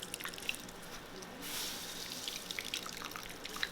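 Water squeezed from shredded vegetables for vegan veggie patties drips and trickles in faint, scattered patters, with small squishy wet sounds along the way.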